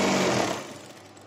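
A sewing machine stitches the hem of a men's half-open shirt, giving a short, close mechanical whir that fades within about a second, with no voices.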